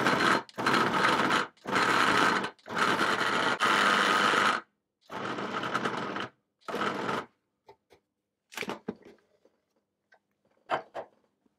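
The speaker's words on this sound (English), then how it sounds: "I'm going to pulse it again until that breaks down into a sort of coarse breadcrumb-like texture." A food processor pulses pastry mixture for a Dutch apple pie, loud bursts of about a second each with short gaps, then shorter, quieter pulses and faint clicks as the mixture breaks down into crumbs.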